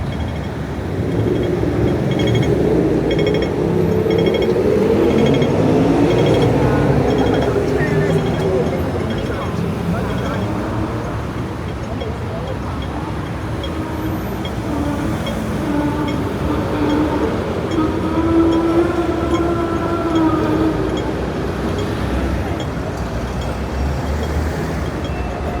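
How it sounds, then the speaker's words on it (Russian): A Hong Kong tram rounds a curve, its wheels squealing on the rails in rising and falling tones, close and loud over steady street noise and the rumble of the tram. "Насладились звуками проезжающего трамвая, точнее поворачивающего. Они так страшно скрипят, когда поворачивают на рельсах"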